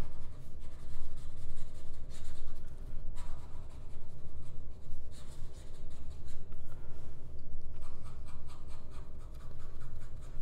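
Stabilo Grow fountain pen nib scratching quickly across paper in fast writing, a steady close rasp with brief pauses between strokes, no talking.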